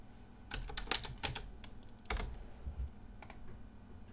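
Short bursts of keystrokes on a computer keyboard, a few quick clusters of close clicks separated by brief gaps over a faint room hum.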